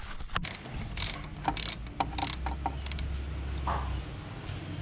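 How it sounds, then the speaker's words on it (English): Close mechanical ratcheting clicks and scraping metal sounds in an uneven series, a wrench working a car's oil filter loose. "Next, let's loosen the filter."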